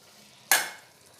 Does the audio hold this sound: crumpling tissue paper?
no